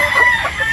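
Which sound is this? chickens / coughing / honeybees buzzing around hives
chickens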